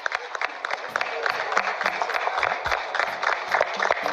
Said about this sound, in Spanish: un fuerte aplauso para los laureles deportivos de Ian Paul